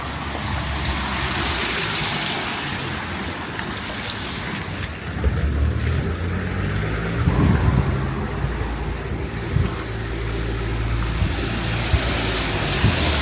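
Ocean waves surge and wash continuously along the Yalta coast in Crimea on a rainy day, with heavy wind buffeting the microphone, loud and close throughout with no voices.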